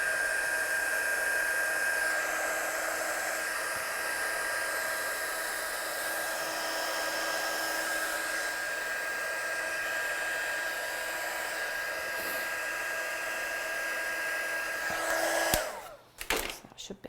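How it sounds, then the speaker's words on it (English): A heat tool drying freshly stamped ink on a handmade card blows with a steady, continuous whirring hiss that holds level for about fifteen seconds, then cuts off abruptly with a few clicks. "I'm just going to dry that so I don't smudge it"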